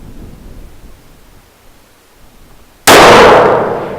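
A single loud gunshot is fired at a target, its sharp crack coming suddenly after quiet outdoor ambience and then trailing into a long, fading rumbling echo.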